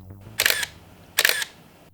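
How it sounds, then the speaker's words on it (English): A Canon 5D Classic DSLR fires its shutter twice, each a crisp, snappy mechanical clack about three-quarters of a second apart. The shots are close and clear against a quiet background. "The shutter sound and feel on this is exquisite."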